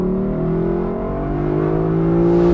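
A 2023 Lexus LC500 convertible's engine revs up in one smooth, loud pull, its tone climbing steadily over a couple of seconds with a deep rumble underneath and no talking.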